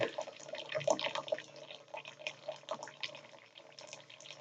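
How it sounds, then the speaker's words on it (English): Hot water trickles and percolates through a porcelain ceramic coffee filter, a continuous soft gurgle with small drips and splashes, steady and fairly quiet. "You see how that's just percolating right along?"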